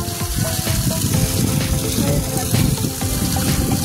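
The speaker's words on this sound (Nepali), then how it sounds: "चिसो पानीको चर्चित भाइरल धारा अब म तपाईहरुलाई देखाउँदैछु" Water gushes steadily from a spout, a loud continuous splashing flow with no pauses, heard up close.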